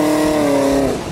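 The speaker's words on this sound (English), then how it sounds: "If you are interested in a Stainless Works exhaust for your 6th Gen Camaro" A 6th Gen Chevrolet Camaro with a Stainless Works exhaust revs up close and loud, holding a strong rising tone for about a second before dropping off.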